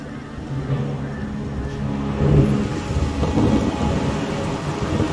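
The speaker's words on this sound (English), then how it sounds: "There's the storm." Game thunderstorm in Ori and the Will of the Wisps: steady rain hiss with rolling thunder rumbles that swell near the middle, continuous and fairly loud, with no voice over it.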